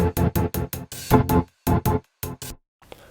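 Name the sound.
rhythmic gated reverb on hi-hats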